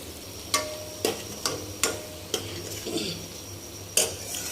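A spoon stirs capsicum vegetable curry in a pan, clinking against the metal in a series of sharp, evenly spaced taps over a low background hiss.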